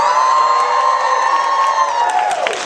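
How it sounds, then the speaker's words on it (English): A live audience erupts in loud, sustained cheering and whooping that fills the room steadily, then begins to fade near the end. "react with as much energy, enthusiasm, clap your hands, stomp your feet, go crazy"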